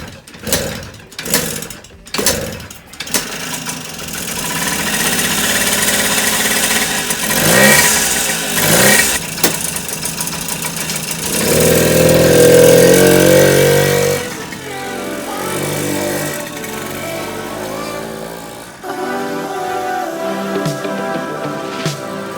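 A Suzuki JR50 minibike with a freshly cleaned carburetor is kicked over with a few sharp strokes, then catches and runs, its small engine buzzing loudly and revving up and down nearby.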